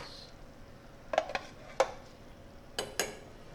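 Green and red peppers with stewed tomatoes being stirred in a pot for tortilla soup, a few sharp spoon scrapes and clinks over a quiet, faint background, with no talk.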